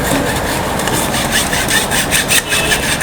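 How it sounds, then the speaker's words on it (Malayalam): Flour mixture for eggless cake rusk is sifted through a sieve, giving a loud, continuous scratchy rasping with rhythmic rubbing strokes over about three seconds, with no voices. "ഒരു 2-3 പ്രാവശ്യം ഇതുപോലെ ഒന്ന് അരിച്ചെടുക്കണം."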